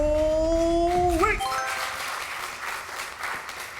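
Studio audience applause at a televised quiz show breaks out right after a sustained two-tone buzzer or chime, a broad, even clatter of clapping that holds steady and moderately loud to the end.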